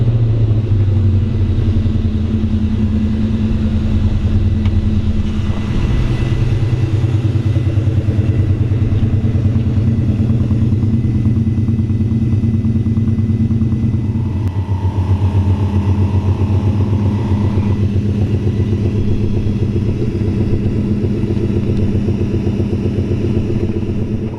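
A 1932 Ford Deuce Roadster with a 4.6L engine idles loud and close, giving a deep, steady rumble that swells into a rev and then settles back, with a slight mechanical clatter.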